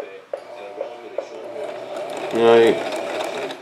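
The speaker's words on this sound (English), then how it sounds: "you gotta pull these 2 strings and just start sewing" Sewing machine stitching: a brief whirring, mechanical run of rapid needle strokes near the end, preceded by small clicks and handling noises, with someone speaking briefly at the start.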